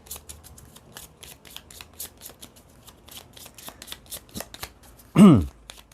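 A Cigano tarot card deck is shuffled by hand in a rapid run of soft, crisp riffling flicks, close up, with one louder thump near the end.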